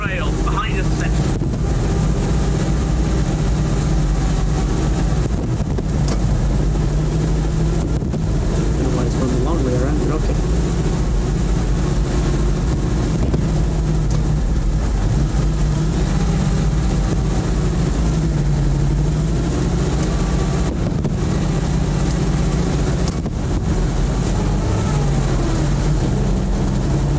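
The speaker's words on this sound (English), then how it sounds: "Sounds like a scout car coming from our one." An engine drones steadily throughout, a scout car's motor rumbling on approach in the WWII shooter Post Scriptum, with wind noise and people talking over it.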